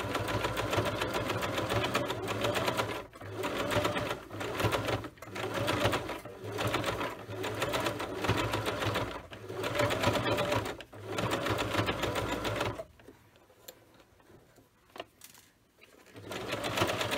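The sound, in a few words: sewing machine stitching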